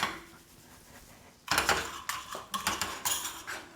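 A spoon scrapes and clinks around a pan of melted butter and brown sugar. Sharp metallic taps and scrapes come in quick bursts after a brief quiet start.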